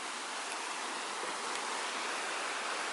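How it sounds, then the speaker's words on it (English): A waterfall roars as a broad, steady wash of rushing water heard from nearby, constant and unbroken with no voices over it. "And that is the waterfall."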